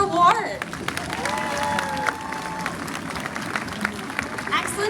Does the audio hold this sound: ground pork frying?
no